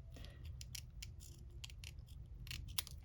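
Scissors snip through paper, trimming a pair of paper boots for a paper doll in a junk journal; a series of quiet, close, crisp cuts over a low steady background.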